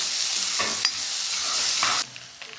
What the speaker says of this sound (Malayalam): നമുക്ക് കുത്തുമുളകും ഉള്ളിയും കൂടി അവിടെ മൂപ്പിക്കും